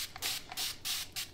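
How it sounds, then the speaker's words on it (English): Mary Ellen's Best Press fabric starch hisses from a spray bottle onto quilt fabric in four short, even bursts, close and soft, with no one speaking. "I have it in this nice spray bottle, so it's nice and even. So I just spray like that, so it's light."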